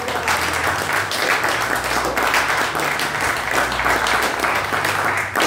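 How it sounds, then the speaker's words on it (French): A church congregation applauds and cheers for Jesus during a French-language service, a dense, steady wash of clapping and voices that stays loud and continuous throughout, with no break. "Est-ce qu'on peut acclamer pour Jésus?"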